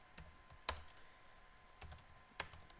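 Quiet typing on a computer keyboard, with scattered soft keystroke clicks and a few sharper taps at an irregular pace. The sound is close and faint, with no talking.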